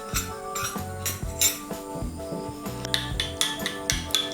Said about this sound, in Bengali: ডিমটাকে আমি ভালো করে ফেটিয়ে নেব